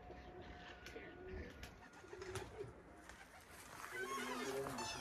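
Pigeons cooing in a backyard coop at a garden, soft repeated coos and bird calls mixed with faint background murmur throughout.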